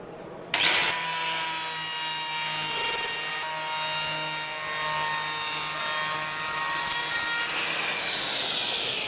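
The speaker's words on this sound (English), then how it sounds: "Use the woodcarver," A Woodcarver Gold carving disc on a power grinder cuts into wood. After a brief quiet start the whine kicks in abruptly and holds a continuous high, rasping grind throughout, loud and close, with no talk.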